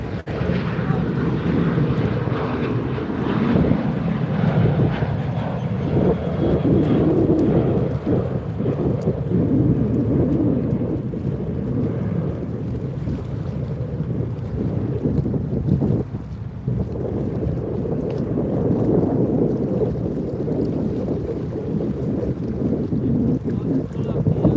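An Air X aircraft passes overhead near Sydney International Airport, a deep, steady low rumble with wind buffeting the microphone that persists loud throughout, swelling and easing slightly.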